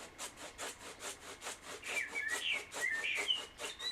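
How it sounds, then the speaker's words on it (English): A paintbrush dry-brushes sand-textured wargaming terrain in quick, regular rhythmic strokes, a soft scratchy rasp repeating about twice a second, close and fairly quiet with no talking. "all I do, where I've got the sand areas, I just start brushing it"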